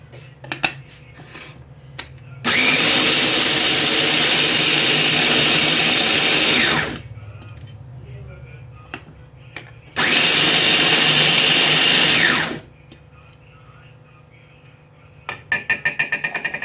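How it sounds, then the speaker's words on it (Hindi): An electric grinder whirs loudly in two long bursts, each several seconds, as fried spices for a lemon, amla and chili pickle are ground coarsely, with quieter clinks and handling in between and a rattle at the end. "ग्राइंड कर लेते हैं।"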